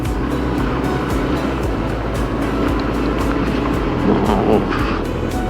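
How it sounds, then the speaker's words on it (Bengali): A vehicle overtakes a truck on the winding road from Bandarban to Ruma, its engine a steady loud drone with rumbling low end and a brief surge of effort near the end, no talking. "আমার সামনে একটা ট্রাক এটাকে ওভারটেক করতে হবে"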